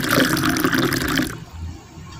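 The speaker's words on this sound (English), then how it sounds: "let me drink my water." Someone drinks water steeped with blue ternate flowers, a loud close gulping and sloshing of liquid that cuts off abruptly and leaves a quiet room.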